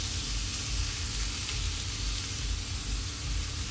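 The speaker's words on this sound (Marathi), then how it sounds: "आपली एक साइड फ्राय झालेली आहे." A chicken steak fries in a pan with a loud, dense, continuous sizzle close up, steady throughout with no voices.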